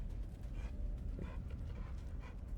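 A dog in the post-apocalyptic role-playing game Wasteland 2 pants and whimpers in short repeated bursts over a low rumbling game soundscape, faint and steady.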